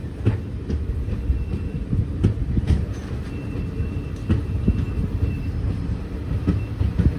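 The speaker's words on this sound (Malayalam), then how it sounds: "നമ്മൾ തെന്മല സ്റ്റേഷനിൽ നിന്ന് വിട്ടിരിക്കുക കേട്ടോ 2 മിനിറ്റിന്റെ ഹോൾട്ടിന് ശേഷം" Guruvayur-Madurai Express pulling out of Thenmala station after a two-minute halt, with a steady low rumble of carriages and rhythmic wheel clicks and clanks over the rails, close and continuous throughout.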